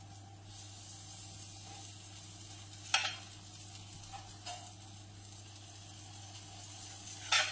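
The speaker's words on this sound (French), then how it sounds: "je fais revenir dans ma poêle les petites galettes" Small poultry patties sizzle softly in a frying pan, a faint steady hiss with a few brief scraping or stirring sounds, close and quiet, without talk.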